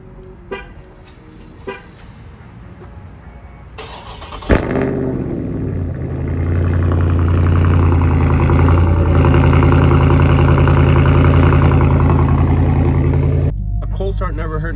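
A Dodge Charger Scat Pack cold-starts with a sharp crank and loud roar, then settles into a deep, rumbling high idle close by. A few clicks come before the start and a person talks briefly.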